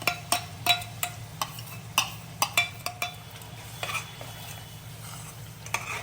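Onion and tomatoes cook in a pan on a village kitchen stove, with a soft steady sizzle under repeated sharp clinks and scrapes of a spoon stirring against the metal pan, close and fairly quiet.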